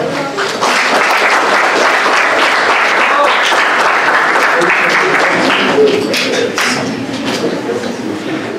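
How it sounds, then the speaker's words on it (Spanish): An audience gives a professor warm applause at a talk on inclusive cultural teaching, loud and sustained clapping from a crowd that thins slightly toward the end. "Yo les pediría que le den un fuerte aplauso al profesor"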